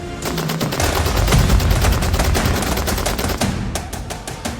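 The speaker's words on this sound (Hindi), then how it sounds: "गाजा में युद्ध विराम वाले दावों के बीच ताबड़तोड़ फायरिंग कर रहे ये लोग हमास के विरोधी लड़ाका ग्रुप हैं।" Rapid sustained automatic gunfire from fighters opposed to Hamas firing weapons in Gaza, loud dense bursts of shots overlapping almost without pause, ending in a few separate cracks.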